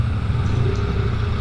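A Ducati motorcycle engine runs steadily with a low, continuous rumble, close and loud throughout, with no clear rise in revs and no speech.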